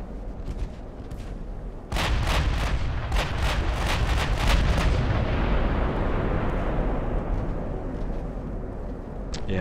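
Naval guns boom and torpedoes strike ships in the video game Ultimate Admiral: Dreadnoughts, a dense, loud barrage of overlapping blasts and explosions that erupts after a quieter opening and rumbles on continuously, with no talk.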